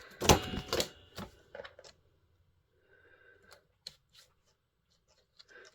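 Cardstock being cut for stamp storage makes a loud, close crunching cut at the start, followed by several lighter snips and clicks in a quiet room.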